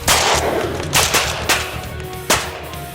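Hunting gunfire in South Dakota: several sharp, loud shots ring out at irregular intervals, each with a short echoing tail in an otherwise open outdoor setting.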